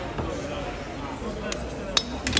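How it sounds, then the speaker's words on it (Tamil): Horse meat is chopped into small pieces for biryani at a huge commercial kitchen, with a few sharp cleaver knocks near the end over a low background murmur and clatter. "இதில் வந்து அந்த ரச்சியை வந்து சின்ன சின்ன பீஸ் பீஸாக கட் பண்ணி கொண்டுருக்குறாங்க."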